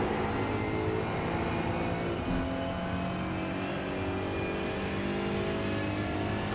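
An Aston Martin Vantage GT4 engine in iRacing at Circuit Zolder, revving and accelerating steadily after a downshift to third, loud and close with a constant droning tone and no talking.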